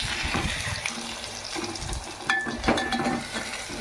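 Egg fry being stirred in a frying pan, with soft scraping and gentle sizzling plus a few light clinks of utensil against the pan, close and continuous.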